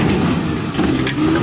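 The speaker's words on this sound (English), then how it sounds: "But it revs up the engine itself." A trash truck's engine revs up as its throttle button is held, a loud, steady mid-pitched roar that swells and dips slightly over a brief moment.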